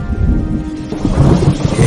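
Cartoon thunder and heavy rain sound effect on a cold winter night: a loud, close rumbling roar over a dense wash of pouring rain, continuous and swelling toward the end.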